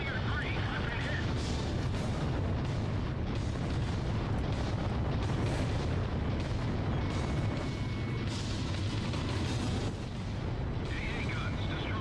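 AA guns blowing up in Ace Combat Zero: dense, continuous rumbling booms and blasts layered over one another for several seconds, with game radio chatter underneath.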